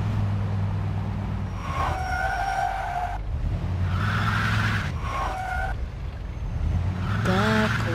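In the Mafia 2 video game, a car engine revs hard while its tires skid and squeal repeatedly, rising and falling in several loud surges across the whole stretch.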